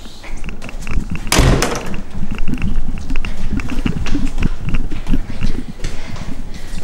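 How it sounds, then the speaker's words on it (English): Door closing while walking through a building in Amman, Jordan, a sharp near thud early on amid steady footsteps and busy background noise. "Close door."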